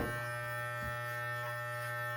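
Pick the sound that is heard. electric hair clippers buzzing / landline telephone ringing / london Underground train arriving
electric hair clippers buzzing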